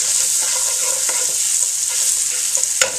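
Scallions sizzle and crackle in a hot frying pan, a steady bright hiss with a few small pops and stirring scrapes.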